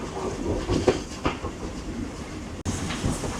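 A passenger train running on rails near the town of Castlemaine, a steady loud rumble with rhythmic wheel clatter and a brief sharp jolt, heard from inside a carriage.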